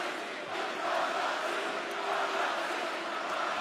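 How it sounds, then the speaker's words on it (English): A wrestling arena crowd roars loudly and steadily throughout, a dense, sustained wash of cheering with no clear breaks. "Yes, the crowd is still loud."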